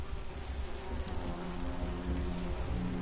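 Bees buzz in a dense, constant drone throughout a short scene from the video game Grim Fandango, loud and close, with no speech over it.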